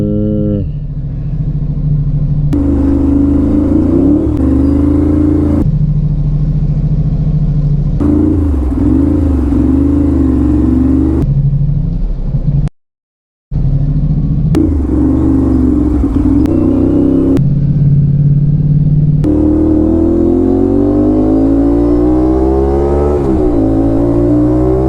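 Aprilia RS 457 motorcycle with a loud aftermarket exhaust, revving hard in repeated bursts with rising and falling pitch, close and dominant, with a brief cut near the middle.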